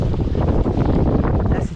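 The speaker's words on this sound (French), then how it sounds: "Quinzaine de nœuds de vent." Strong wind of about fifteen knots buffets the microphone aboard a sailboat off Croatia, a steady loud rush with no let-up and no voices.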